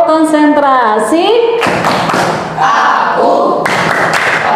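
Hand claps in a classroom clap chant come in a few loud, dull beats after a sung chant line, landing roughly once a second while voices continue over them.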